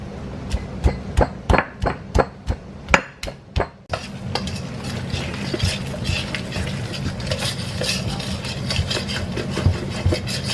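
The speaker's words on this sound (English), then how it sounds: "Just smash the chili pepper. Follow with garlic." Chili pepper, then garlic, smashed by hand for Lao khao-poon chicken noodle soup: about ten sharp, evenly spaced pounding blows close by, followed by a denser, continuous stretch of crushing and knocking.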